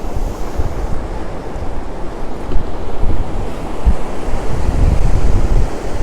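Waves roll onto a beach under strong, buffeting wind, a dense, loud wash of surf with wind rumbling across the microphone throughout.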